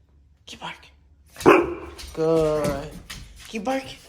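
A dog barks on command, one sharp bark followed by a longer barking howl and another bark close to the microphone, with a person speaking between them.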